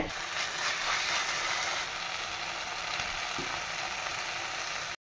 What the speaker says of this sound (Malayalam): ഇനി ഇതിലേക്ക് ചെമ്മീനൊക്കെ ഇട്ട് മിക്സ് ചെയ്യട്ടെ